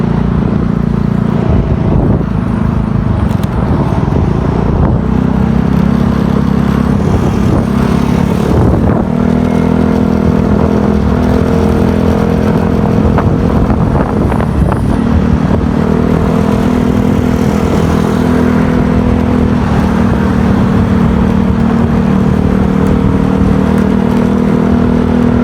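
A Yamaha Mio Gear 125 scooter engine drones steadily while riding toward Antipolo, a loud, close, continuous hum with wind buffeting and road clatter throughout.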